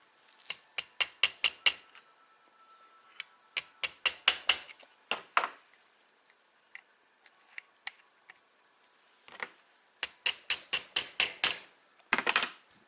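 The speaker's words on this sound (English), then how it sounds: "punch them out the other side with a hammer." Rapid bursts of sharp, ringing hammer strikes punching parts out of a Weihrauch HW57 air rifle tuning kit, several quick blows per burst with short pauses between, close and fairly loud.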